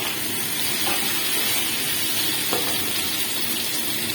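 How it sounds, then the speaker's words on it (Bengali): Fried potatoes go into sizzling chicken curry for chicken maharani, a steady close hiss of frying throughout with a couple of faint knocks as the pieces are added. "এবার এর মধ্যে আমি ভাজা আলুগুলো দিয়ে দেব"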